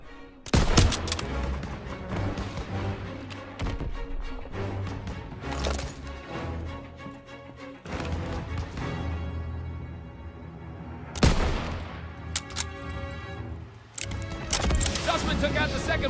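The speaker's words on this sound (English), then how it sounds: "Cover them so they can support Sussman! Get more fire over there!" Bursts of gunfire and explosive booms from the Call of Duty: WWII video game battle, loud and dense with repeated volleys and heavy impacts, under shouted combat dialogue.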